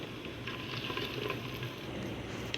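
Spice masala with salt, red chilli and turmeric frying in a pan, a soft continuous sizzle and crackle at moderate level, steady throughout with faint stirring.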